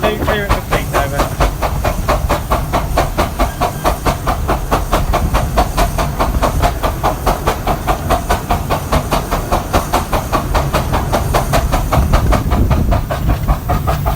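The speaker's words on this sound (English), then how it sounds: "each chuff from the chimney is one cylinder full of exhaust steam" Steam locomotive Northern Chief chuffing steadily, each rapid exhaust beat from the chimney blasting out in a continuous rhythmic train of puffs, loud and close with a hiss of steam and rail clatter underneath.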